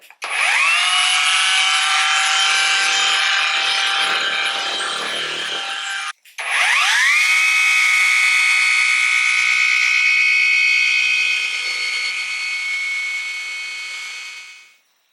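A Vevor dual action polisher fitted with a polishing pad works a car fender, whirring loud and steady for about six seconds, then a brief stop before it spins up again and runs on, fading slightly at the end.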